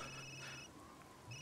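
A quiet electronic phone ring in the video game Resident Evil Village, with steady high tones, pausing briefly before starting again, alone with no voices.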